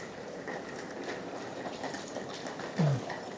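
Taoyuan Airport Express train in Taiwan heard from inside during a ride: a steady, loud rolling rumble and rail noise throughout, with a short louder squeal or thump near the end.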